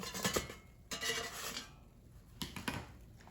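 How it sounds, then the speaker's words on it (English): Frozen apple turnovers being flipped in an air fryer basket: a few close scraping and clattering knocks of pastry and the metal basket, then quieter rubbing, with no talk. "Let's take out the air fryer basket and flip the turnovers over so they brown evenly."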